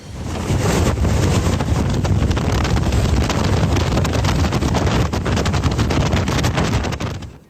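A super typhoon bearing down on Hong Kong at night sends strong wind roaring past, a loud, continuous buffeting rush with heavy rumbling gusts across the whole stretch.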